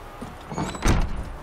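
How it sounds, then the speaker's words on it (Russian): A door being broken down in The Witcher 3: a heavy, close thud and splintering crash lands just under a second in, following a softer bump, with low rumbling afterward. "Ломайте дверь, заходим!"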